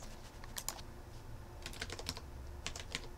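Typing on a computer keyboard, faint clusters of quick soft key clicks separated by short pauses, with no voices.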